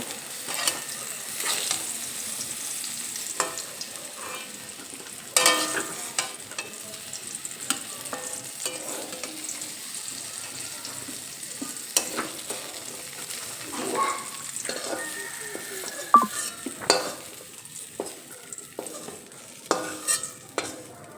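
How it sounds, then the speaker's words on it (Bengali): Pumpkin pieces frying in oil in a pan make a soft, ongoing sizzle, punctuated over and over by clattering scrapes and taps of a spatula turning them, with occasional brief talking. "কুমড়ো সেদ্ধও হয়ে গেছে আবার সেই সঙ্গে ভাজাও হয়ে গেছে"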